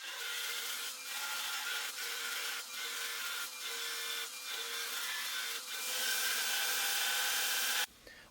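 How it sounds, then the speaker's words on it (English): A steel chisel tang is ground on 35 grit abrasive, giving a continuous close, fairly quiet grinding hiss with regular brief dips in level, alone with no talk. "I'll grind away with 35 grit, measuring to get it just a hair under 1/2 inch"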